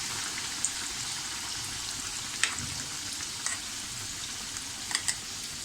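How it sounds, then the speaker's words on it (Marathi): Bread patties frying in hot oil over a low gas flame, giving a steady soft sizzle throughout with a few brief crackles and pops standing out, no voices. "हे पॅटीस आपल्याला असे याच्यामध्ये छानपैकी गोळवून मिक्स करून असे तळून घ्यायचे आहेत"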